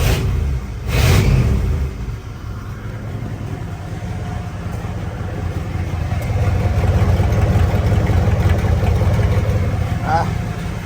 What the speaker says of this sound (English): That's that busted exhaust pipe doing its thing.